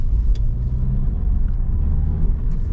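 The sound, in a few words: Cavalier Diplomat car engine running after a misfire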